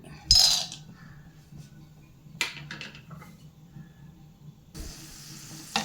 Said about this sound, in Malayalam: അതിലേക്ക് നമുക്ക് ആദ്യം കുറച്ച് നിലക്കടല വറുത്ത് കോരിയെടുക്കാം